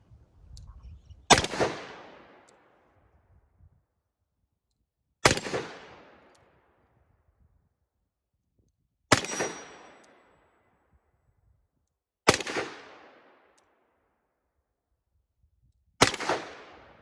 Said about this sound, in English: we'll go ahead and shoot the last 6 through it